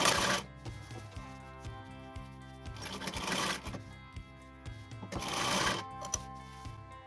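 Sewing machine stitching a designer dress with a separate bodice, running in several close bursts of rapid, rhythmic needle clatter separated by brief pauses and fabric handling.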